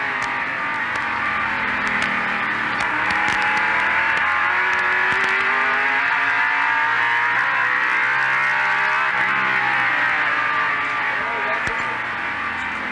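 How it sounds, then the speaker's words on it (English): A NASCAR Winston Cup stock car at Martinsville in 1989, heard from inside the cockpit: a loud, continuous engine roar whose pitch swells and dips as the car accelerates and lifts through the short-track corners, with no break in the sound. "So now it is Dale Earnhardt in third, and we're inside Michael Waltrip's car."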